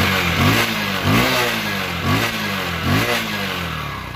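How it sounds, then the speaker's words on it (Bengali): A 100cc second-hand commuter motorcycle, Discover or Keeway, being revved in repeated throttle blips, the engine rising and falling about four times, loud and close with no talk. "তো বন্ধুরা দেখাচ্ছি আমি আপনাদেরকে গাড়ির ইঞ্জিন সাউন্ড।"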